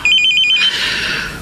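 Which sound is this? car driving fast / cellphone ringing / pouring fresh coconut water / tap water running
cellphone ringing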